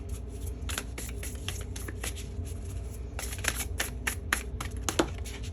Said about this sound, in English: I'm going to pull the rest of the cards here